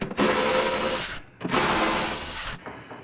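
A power driver takes screws out of a motorcycle saddlebag tether on a Softail, two loud close whirring bursts of about a second each separated by a short pause.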